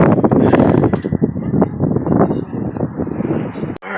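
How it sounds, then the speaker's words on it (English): Strong outdoor wind buffets the microphone with continuous low rumbling gusts in a driveway where a Honda Civic B16 engine is being removed, ending in a sharp click. "it's super windy, man"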